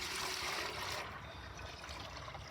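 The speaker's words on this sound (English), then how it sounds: "I'm gonna do the best I can to dump them as nice as I can into these buckets without spilling too terribly much" Sugar water poured from pails into feeder buckets, a steady splashing trickle that softens partway through, close and alone with no voices.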